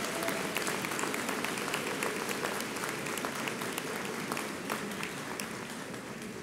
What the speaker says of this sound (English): give them a big round of applause for all of the work they've done to get you here